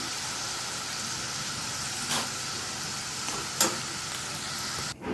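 Peanuts frying in hot oil in a home kitchen for murmura chivda, a steady close sizzle throughout with a couple of brief clinks of a utensil against the pan.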